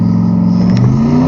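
A drag car engine builds boost at the start line, a loud, steady close rumble with a slowly rising pitch as the revs climb.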